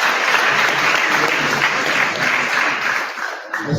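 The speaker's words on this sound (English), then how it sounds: "We give a hand of applause to Noah Gibson." An audience claps steadily and densely at an event where the president meets people living with disabilities, the applause loud and sustained before thinning slightly at the very end.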